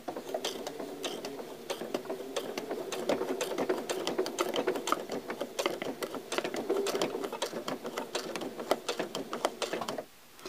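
A sewing machine runs steadily, stitching quilt binding at an inner corner with a very short stitch, a close, continuous fast mechanical whir and clatter that stops abruptly near the end.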